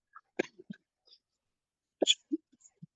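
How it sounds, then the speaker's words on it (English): A man coughing in a podcast recording, a few sharp, harsh bursts close to the microphone in two short clusters with quiet gaps between. "I have a coughing fit."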